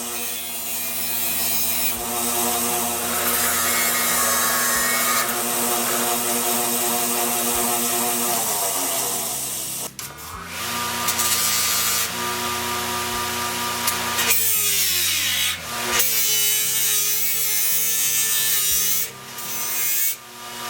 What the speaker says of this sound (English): final cleanup and polishing of my soldering joint.